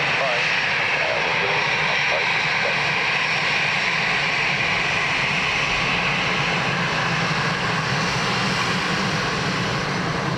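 A Ryanair jet landing on runway 28 left at Dublin Airport, a steady loud engine roar filling the whole stretch, with faint radio chatter underneath.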